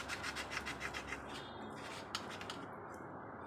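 Potatoes being scraped with a handheld peeler in a home kitchen: steady, close, soft rasping strokes in a quick repeating rhythm, quiet overall, with no talking.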